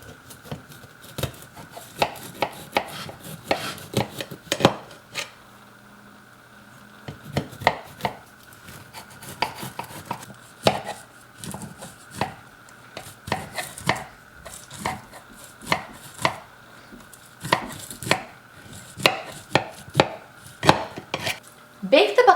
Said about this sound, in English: Using a sharp knife, cut diagonals in the baklava to shape the little pieces.